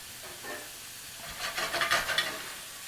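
Finely chopped shallots and garlic sauté in a hot pan, giving a soft, steady sizzle that swells into a brighter, busier crackle with stirring bursts midway before easing off.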